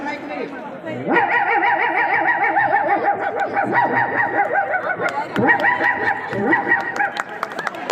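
A student at a state-level mimicry competition imitates a dog's barking with his voice, giving a continuous string of rapid, loud barks and yips that carry on almost without pause.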